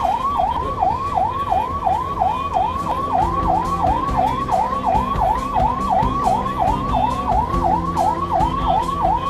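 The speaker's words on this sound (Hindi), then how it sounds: "यहाँ पे हमें दिल्ली पुलिस की गाड़ी एस्कॉर्ट कर रही है" A Delhi Police car escorting a Volvo bus out of Delhi bound for Kathmandu sounds its siren: a loud, close, continuous wailing rise and fall, cycling steadily over constant road rumble.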